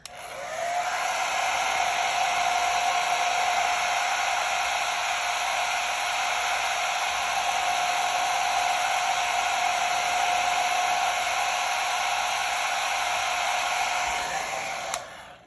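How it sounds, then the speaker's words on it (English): A hair dryer blows steadily at close range, a constant whooshing whine that holds unchanged for the whole stretch before switching off at the end. "I'm gonna grab my blow dryer and we are gonna blow dry this."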